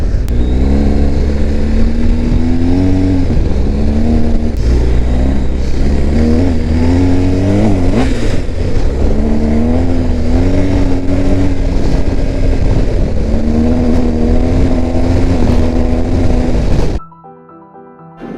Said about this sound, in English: Gotta love the GSA, Bullion Road. What a fun ride this is.